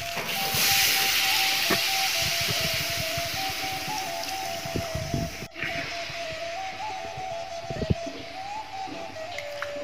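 Coconut milk poured into a hot pan of peanut sauce for pical sets off a loud, steady steaming hiss with a faint hum beneath and a brief break midway, no voices.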